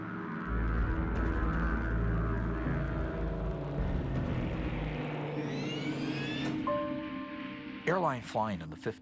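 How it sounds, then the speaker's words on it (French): A TWA Lockheed Super Constellation airliner takes off from Los Angeles International Airport in 1956. A deep, heavy engine rumble drones for several seconds, then gives way to a rising whine and other sharp, tonal sounds. "le vol 2 de la TWA s'envole vers l'est en direction de Kansas City"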